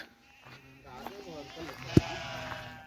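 Goats bleat softly in a farm pen where berseem fodder has just been brought, a few wavering calls under close conversation, with one sharp knock near the end.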